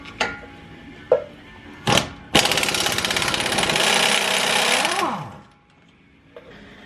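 An impact wrench loosens suspension bolts on a Subaru Impreza WRX during a TEIN spring install, starting with a few short bursts and then a sustained rattling hammer for about three seconds that winds down, all close and loud.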